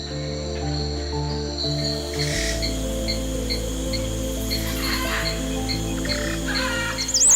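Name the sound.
birds calling in the Amazon forest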